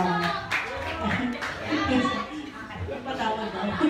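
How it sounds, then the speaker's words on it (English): Audience at a charity concert claps after a song, scattered uneven hand claps mixed with chatter, children's voices and light laughter, with people talking over much of it. "Ladies and gentlemen, all the applause."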